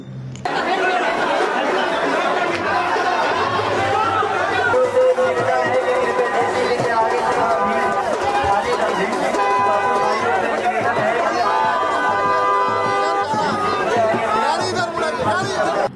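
A large, dense crowd at a political rally in Karakat, a continuous loud babble of many voices with shouting, mixed with music playing over the throng throughout.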